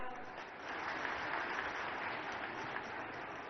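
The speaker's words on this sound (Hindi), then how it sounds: "अगर सही है तो ताली बजा दो।" A rally crowd claps in steady, continuous applause that holds for several seconds at a moderate, slightly distant level, with no voices over it.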